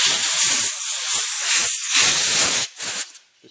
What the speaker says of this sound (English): So I just use compressed air.